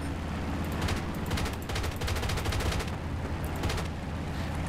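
Machine guns on a PV-2D Harpoon plane in War Thunder rattle in dense, rapid bursts over a constant loud engine drone, the fire pulsing in clustered volleys across the whole stretch.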